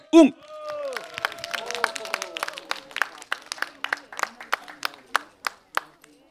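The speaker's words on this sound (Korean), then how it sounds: "여러분 큰 박수로 와주십시오" A live audience at a trot music event claps to welcome a child singer onto the stage. A brief voice comes first, then a thin run of scattered, uneven hand claps that grows into a steadier patter.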